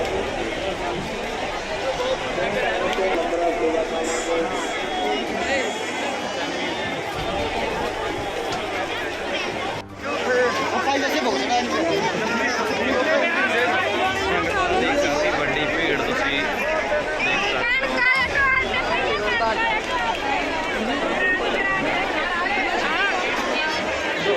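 Dense crowd of Sikh pilgrims at the Vaisakhi fair at Takht Sahib, Talwandi Sabo, a steady loud babble of many voices and movement throughout, with no break.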